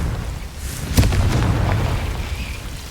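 The Confringo fire spell in Hogwarts Legacy lands with a single deep, booming explosion that rumbles on for a couple of seconds.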